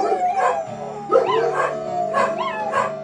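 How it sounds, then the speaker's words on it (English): Dogs bark and yip continuously inside shelter cages at night, several animals overlapping in a loud, busy chorus with occasional whimpering howls close by. "These dogs are barking throughout the night."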